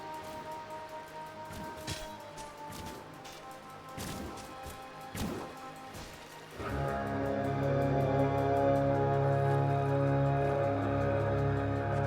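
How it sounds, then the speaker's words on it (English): Dota 2 match action with scattered crashing thuds and impacts in the first half, then a loud, dense rumble of layered clashing and destruction sounds that swells and holds steady to the end. "head toward the sound of smashing towers"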